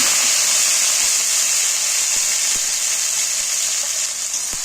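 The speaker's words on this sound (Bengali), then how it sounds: "এবার আমি কাটা কপিগুলো ধুয়ে রেখেছিলাম তেলের মধ্যে তুলে" Washed chopped cabbage hits hot oil already seasoned with fried five-spice, giving a loud, continuous close-up sizzling hiss with a few faint clicks underneath.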